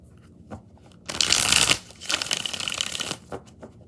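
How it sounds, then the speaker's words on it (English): Rider-Waite tarot cards are shuffled by hand in two quick riffling bursts, close and crisp, with a few soft taps before and after. "5 more shuffles."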